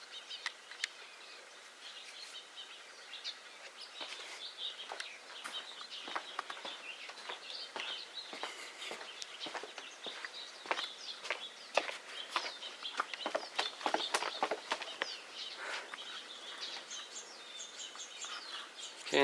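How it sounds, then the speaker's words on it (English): Birds singing in a forest, many high chirps and trills at varying distances forming a continuous chorus, with scattered sharp clicks and no speech. "Yeah, lots of birds."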